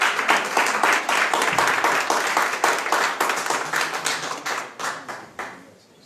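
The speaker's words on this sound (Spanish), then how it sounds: "Un aplauso fuerte" A church congregation bursts into loud, sustained applause, dense rapid hand clapping that holds strong for several seconds before thinning out and fading at the end.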